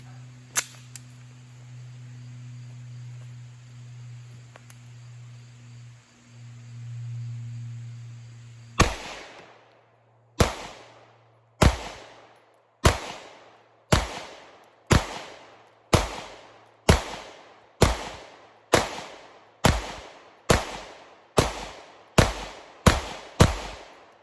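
A Staccato C2 DPO pistol fires about sixteen sharp gunshots in a steady, fairly quick cadence after a stretch of low hum, each report loud and near, with a short ringing decay between shots.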